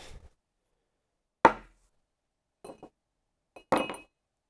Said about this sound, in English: I put the ice cube in first.